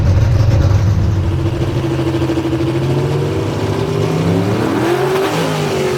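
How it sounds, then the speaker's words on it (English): A small-block race car at a Knoxville race revs hard through its gears, a loud, close engine whine rising and falling in pitch as the driver shifts, with no talk. "You can hear that small block whine."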